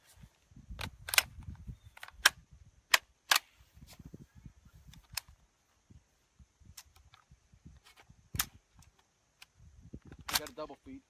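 Several sharp gunshots from a rifle fed by a PMAG magazine crack out irregularly, spaced across the stretch with a few louder reports, under low background talk and handling noise.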